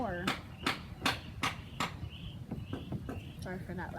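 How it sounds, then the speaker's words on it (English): Loud hammering on a hard surface during slime making at home: five sharp, evenly spaced blows ring out in the first half, followed by a voice talking. "Sorry for that loud hammering sounds."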